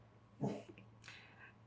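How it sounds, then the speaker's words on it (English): A dog gives a faint, brief whimper or yip, followed by a softer high whine, distant and quiet against a low steady hum. "And there's my dog."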